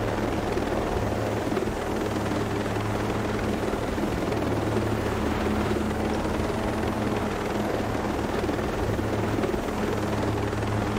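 Helicopter flying in Ghost Recon Breakpoint, a steady droning rotor and engine roar with a low throbbing hum, continuous and loud for the whole stretch with no talking.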